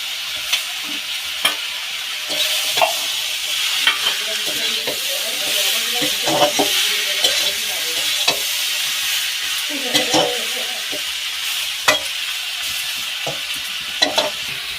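Lata greens and a fish head are tipped into spiced masala and fried, producing a loud, steady sizzle with frequent stirring scrapes and clacks of a spatula against the pan over about fifteen seconds.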